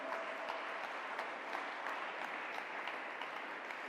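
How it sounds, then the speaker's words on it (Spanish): A church congregation breaks into sustained applause, a dense, even wash of many hands clapping at steady volume from across a large room, with no single voice standing out. "Dale ese aplauso a Dios."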